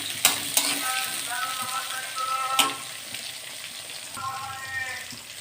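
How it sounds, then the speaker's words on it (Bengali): Eggplant pieces hit hot oil in an earlier-fried batch of potatoes, setting off a bright sustained sizzle with a few sharp knocks of utensils, close and fairly loud. "এবারে আমি বেগুনগুলো দিয়ে দেব।"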